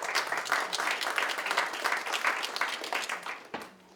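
Audience applause at a Turkish Cultural Center donation event at a library, a dense, steady wash of many hands clapping that fades out near the end.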